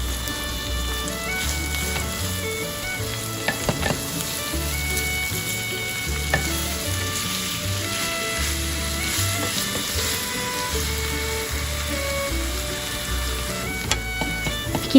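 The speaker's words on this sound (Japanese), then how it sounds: "ひき肉をパック形状のまま入れて、焼き付けるイメージで炒めていきます。" Ground meat, laid in as a block after garlic and doubanjiang, sizzling in a pan, a steady dense crackle like light rain that holds evenly throughout, with soft background music and no talk.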